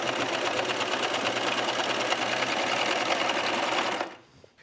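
A sewing machine chains off a cover hem on a knit A-line skirt, running in one loud, fast, even whir that cuts off abruptly near the end.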